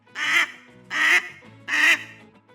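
Three loud, evenly spaced duck quacks from a cartoon animation, each a short nasal burst about half a second long, close and clear with quiet gaps between them.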